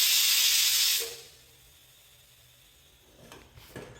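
A kitchen pressure cooker cooking millet lets out a loud, close hiss of steam for about a second, then cuts off, leaving a faint room hush and a few soft clicks.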